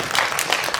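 Audience applause at a film screening talk with the director and actress, a short burst of dense, steady clapping filling the hall.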